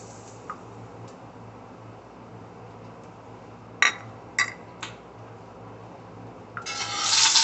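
Meatball sauce ingredients are dumped into a pot on a powerful stove: a few isolated clicks and knocks, then a wet, rushing splash and sizzle that swells louder at the end.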